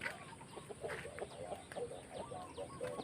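A flock of young roosters, more than thirty birds, clucking softly: scattered short clucks and chirps from several birds, fairly faint and spread over steady background noise, with no talk over them.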